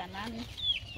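A single hen clucks briefly nearby in a rural home setting, with a few short squawking notes over faint background voices.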